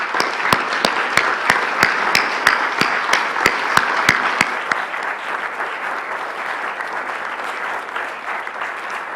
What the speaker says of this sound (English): give these guys a big, big applause for the amazing work they're doing